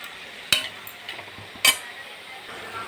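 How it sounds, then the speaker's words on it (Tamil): Food being sautéed with salt in a pan, heard as soft scraping and two sharp clinks of a spatula against the pan over a faint background sizzle, with no talk. "உப்பு இதில் போட்டுக்கோங்க போட்டுட்டு நல்லா வதக்கி விடுங்க"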